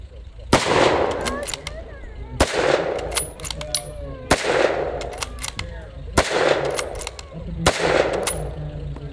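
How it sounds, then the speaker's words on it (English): A WWII-era bolt-action rifle fires five blank rounds at an outdoor encampment demonstration, five sharp, loud reports spaced about two seconds apart, each followed by the clack of the bolt being worked. "So we're going to load the rifle with 5 rounds of blank ammunition"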